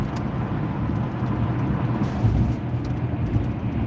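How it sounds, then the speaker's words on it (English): A black truck passes in heavy highway traffic, a steady low rumble of road and engine noise with a slight swell as it goes by, no talk over it. "Here comes this black truck. You'll hear it."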